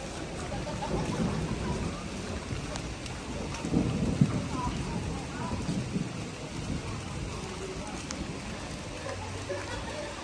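Continuous rain with low thunder rumbling throughout in cold weather at Pak Chong, a faint voice now and then in the background.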